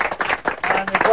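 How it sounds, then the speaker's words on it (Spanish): A brief burst of clapping from a small studio audience at a Gran Hermano gala, with a host's voice speaking over it. "Un aplauso grande para Juan y Griselda"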